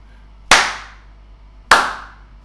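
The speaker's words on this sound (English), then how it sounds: "that clap was really loud" Two loud, sharp hand claps ring out about a second apart, each one close and ending in a short decay, with a faint hum between them and no talking.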